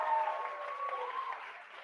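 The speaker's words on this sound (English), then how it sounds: "we're going to give a big round of applause to Neelam" An audience claps in a brief, fairly faint burst of applause at a live event, a soft wash of hand claps lasting under two seconds, with a voice briefly audible over it.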